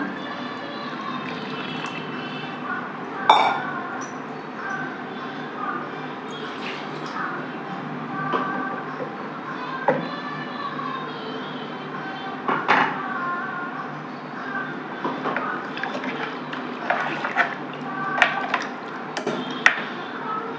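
Tamarind water pours steadily into a pot of lentil curry over a constant background hum, with occasional clinks and knocks of utensils.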